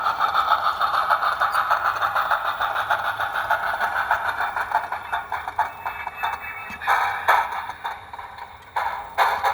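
A model Western Pacific 4-8-4 steam locomotive produces simulated wheel slip, a rapid rattling chuff that starts as a steady buzzing hiss and breaks into quick irregular bursts toward the end, close and moderately loud.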